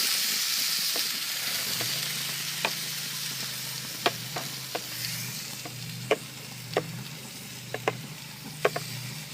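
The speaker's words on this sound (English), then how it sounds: "Throw it right on that hot, clean stainless steel." Food sizzles steadily on a hot, clean stainless steel surface set on an outdoor grill, a continuous frying hiss broken by scattered sharp pops and crackles, with no voices.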